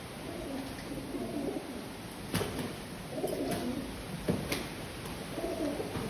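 Pigeons scuffle with each other, giving repeated low rolling coos at a moderate distance, broken by a few sharp wing flaps and clatters, with no talking.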